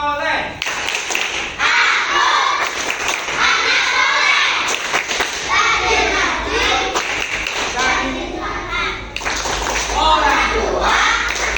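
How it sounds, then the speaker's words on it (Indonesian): Elementary schoolchildren in a classroom chant 'tepuk anak soleh' together, clapping in rhythm as their voices rise loudly and continuously through the whole stretch. "Ayo tepuk anak soleh."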